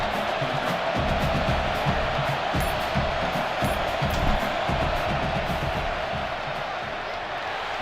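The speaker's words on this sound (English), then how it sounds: "This crowd trying to do its part to get inside the kicker's head." Loud stadium crowd in the College Football 26 video game roars steadily during a long field goal attempt, a dense wall of cheering and yelling that holds for the whole stretch with a commentator's voice over it.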